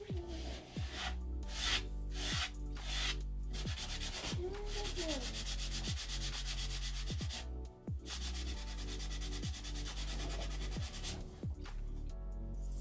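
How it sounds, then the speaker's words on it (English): A sanding pad rubs back and forth along a paper edge, making rhythmic rasping strokes, about one per second, up close. "I have a sanding pad and I'm just going to sand literally on this edge"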